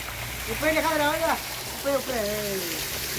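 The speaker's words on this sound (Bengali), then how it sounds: "এই দেখুন এইখানে আরেকবার ঝর্ণা নামছে।" A waterfall pours down a hillside by the Dawki River in Meghalaya, its steady rushing hiss running underneath as someone speaks in two short bursts.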